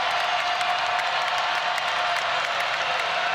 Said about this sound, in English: This crowd at full throat again.